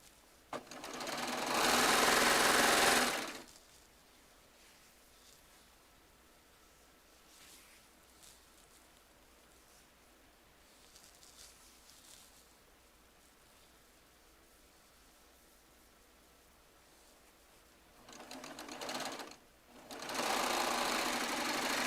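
Baby Lock Triumph serger running in loud bursts at the start and end, its cutting blade trimming fabric edges, with a quieter hum between the runs.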